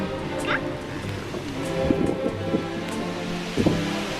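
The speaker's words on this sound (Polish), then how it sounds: "Ale pada co?" Steady rain falls throughout, a soft continuous hiss with a few louder drops and splashes, with faint background sounds.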